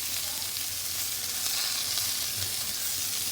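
Floured beef stew meat fries in hot oil with a steady, dense sizzle, close and even throughout, with no voices.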